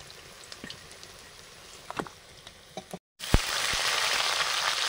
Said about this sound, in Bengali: বেগুন হালকা ভেজে বেগুনগুলো তুলে নিচ্ছি।